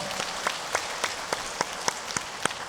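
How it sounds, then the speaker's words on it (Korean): A congregation applauds during a Korean church Sunday service: a steady wash of clapping from a full room, with sharp accented claps landing at a regular rhythm and no talking. "박수로 영광 올려드리겠습니다."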